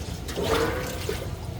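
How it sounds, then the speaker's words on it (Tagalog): Salted water pours off cabbage being prepared for kimchi. A brief, close gush of draining liquid rushes and splashes steadily throughout. "Tatapon po natin yung tubig."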